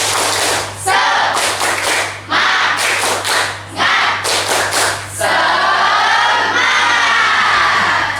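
Students in a classroom do a rhythmic spirit clap, with quick bursts of unison claps alternating with shouted group chanting. The crowd noise is loud and close, ending in a sustained cheer.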